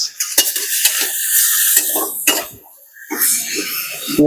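A spoon clatters and scrapes through tomatoes, grated ginger and green chilli in a cooking pan, loud and close, with metallic knocks against the pan over a faint sizzle and no voices.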